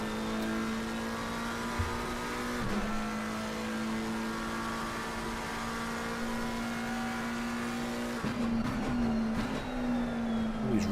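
A McLaren race car engine roaring at sustained high revs on the Suzuka circuit in a racing video game, steady and close, with brief downshift and throttle changes near the end.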